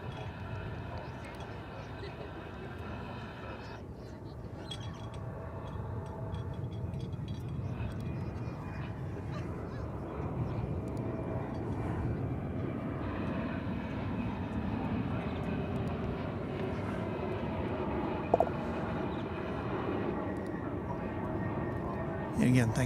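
A Boeing Dreamliner taxis at Dallas/Fort Worth Airport, giving a steady, moderately distant jet engine rumble and whine that holds throughout, with a brief louder knock near the end.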